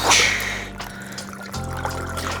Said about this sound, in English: Now I'm using a good healthy pour.